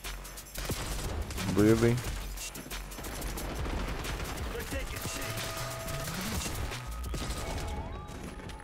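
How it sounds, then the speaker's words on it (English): AS VAL rifle in Black Ops 6 firing in automatic bursts, a dense rattle of suppressed shots over game noise, with a brief spoken remark partway through. "firing my weapon"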